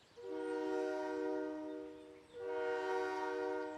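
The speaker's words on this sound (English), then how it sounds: "The train is coming." Cartoon train horn blowing in two long, loud harmonic blasts with a short dip between them, clear and alone in a children's animated Toyland setting.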